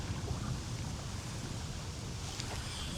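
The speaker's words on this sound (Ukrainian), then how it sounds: "Вітер лютий." Strong, steady wind buffets the microphone beside a pond during stormy weather while spinning for zander, a constant low roar with faint splashing under it.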